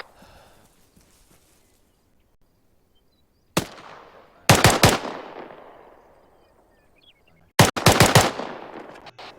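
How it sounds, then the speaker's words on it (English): Gunfire in the Arma military simulation: one sharp distant shot, then two loud close bursts of rapid automatic fire, each trailing off into a long rolling echo over near silence. "I think he's shooting"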